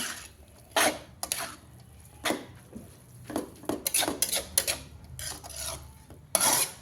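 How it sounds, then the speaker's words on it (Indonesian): Vermicelli stirred with soy sauce in a pan, a utensil scraping and rubbing the metal in irregular strokes, close and fairly quiet, with no talking. "Kita aduk rata sampai kita masak tanek ya."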